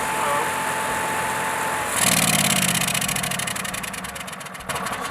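A Generac Primepact 66G RV generator engine starts up with a sudden jump into a steady, loud mechanical running drone that settles into an even hum, close by and with no talk over it.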